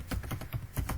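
Code typed on a computer keyboard, a quick run of close, crisp key clicks in an uneven rhythm, heard alone.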